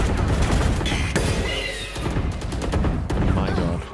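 Video game gunfire in a heavy burst of rapid overlapping shots and booms, loud and close, with brief pauses between volleys and a voice briefly heard underneath.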